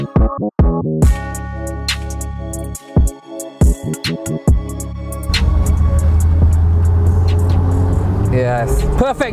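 A chrome Range Rover Sport SVR engine revs loudly in sharp repeated blips, then settles into a sustained heavy roar close by, with someone talking over it.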